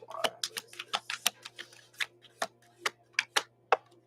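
Romance angel oracle cards are shuffled close up, a run of crisp riffling snaps in an uneven rhythm, quiet and alone.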